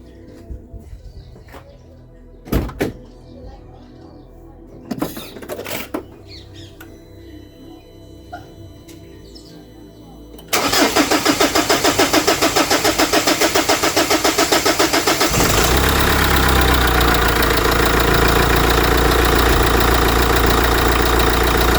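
A London black cab LTI TX4 Euro6 diesel engine cranks after some clicks and knocks, catches with a rough clatter, then settles into a loud steady diesel idle.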